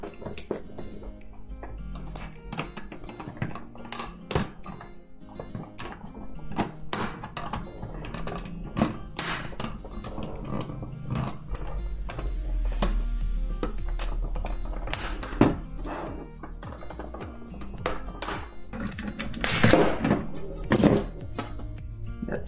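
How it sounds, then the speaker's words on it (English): Phillips head screws come out of an original PlayStation 4 during a teardown, heard as a run of small sharp metallic clicks and taps that come close together and then spread out, with no talking. "There's a screw here and here. You have to take them off first."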